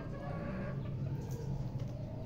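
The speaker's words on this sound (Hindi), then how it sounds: "ये देखे कि यह मुर्गा है, ये आया," A rooster and hens cluck softly as grain is scattered for them on the ground, a low, busy murmur of fowl close by with no talking.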